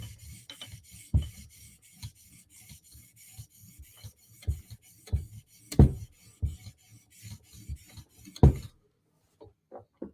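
A Chris Reeve Sebenza Tanto blade scrapes across a sharpening stone in short, irregular rasping strokes, close and fairly quiet, with brief pauses between passes.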